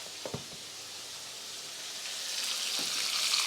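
Ginger and garlic sizzle as they fry in a pan for a spicy mutton korma, a steady hiss that grows slightly louder toward the end, preceded by a couple of soft clinks.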